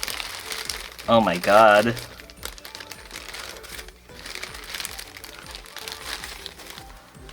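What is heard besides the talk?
plastic wrapping crinkling on unboxed Houshou Marine figure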